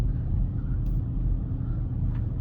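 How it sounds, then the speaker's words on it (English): A 2008 Lexus RX 350 on the road, steady low rumbling drive noise from a possible wheel bearing or tire hum at the rear, continuous and even throughout. "you do kind of hear a wheel bearing noise in the back, but it could be tire noise"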